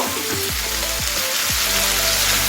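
Onion and turmeric are being stirred into frying ridge gourd for a Bengali chichinga bhaja. Steady close sizzling runs throughout, broken by a few sliding scrapes of the spatula. Harmonic tones rise over the frying, with no talk.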